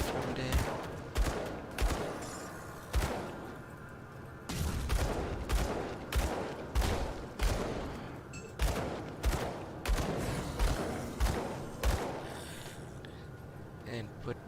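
Rapid gunfire in the video game Grim Dawn, sounding as repeated bursts of shots in a steady rhythm, loud and close, with no talking.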